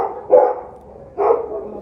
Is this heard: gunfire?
no